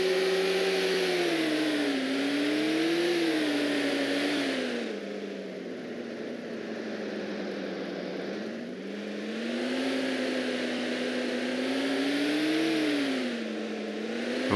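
Vehicle driving in ArmA 2: Operation Arrowhead, a steady engine drone that rises and falls in pitch as the motor revs and eases off, continuous and close with no talk over it.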